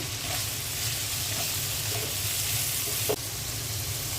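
Boiled papaya, carrot and cauliflower are stir-fried in a pan, producing a loud, steady sizzle with scraping stirs and one sharp knock near the end.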